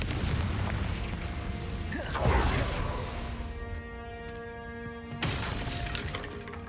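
Confringo fire spell blasting in Hogwarts Legacy, a burst and crashing impact with debris, then ringing magical tones and a second whooshing hit, over a dense game soundscape.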